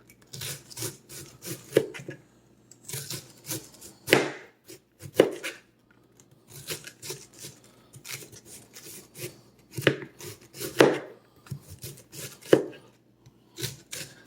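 A knife slices through cabbage for homemade fermented sauerkraut, producing close, crisp cutting strokes in irregular bursts with brief pauses, and no voices.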